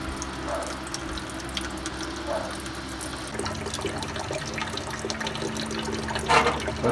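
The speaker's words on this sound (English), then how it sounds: "this is my third flush and it's still coming out pretty rusty, so I'm gonna keep on going" Rusty coolant drains from a car radiator during a flush, trickling and splashing steadily at moderate volume with no voices.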